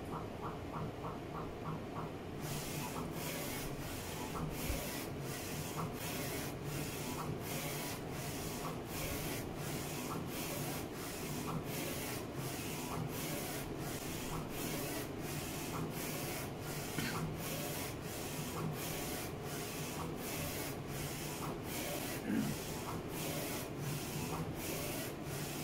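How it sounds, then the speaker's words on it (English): A Focus Alpha-Jet A2 UV printer prints a color layer, its print head sweeping back and forth in a steady, rapid repeating rhythm of regular mechanical passes over a constant motor hum, close and continuous. "And printer start printing."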